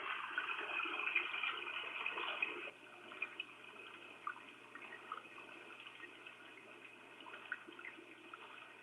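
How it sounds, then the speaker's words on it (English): Steady bubbling and hissing water, louder for the first few seconds, then settling into a softer simmer with scattered pops. "That is the sound of boiling water."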